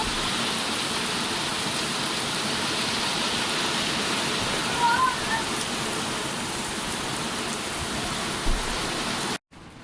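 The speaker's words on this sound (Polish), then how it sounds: "strasznie leje, powiem Wam, taka ulewa, grad leci przeokropnie" Heavy summer rain with hail pours down in a dense, steady hiss, with occasional faint knocks and taps mixed into the downpour.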